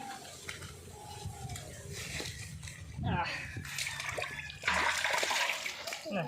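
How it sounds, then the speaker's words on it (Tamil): Live murrel fish thrashing and splashing in water, with bursts of wet slapping and sloshing close by while people talk over it. "குதிச்சு குதிச்சு விழுது புடி ஹரணி அதை புடி"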